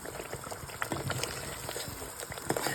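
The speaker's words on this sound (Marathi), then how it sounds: "आपण हा मसाला चांगला भाजून घेत आहोत, तेल सुटेपर्यंत" Masala for mutton curry roasting in oil, a dense close crackle and spitting sizzle with frequent little pops, steady and loud throughout.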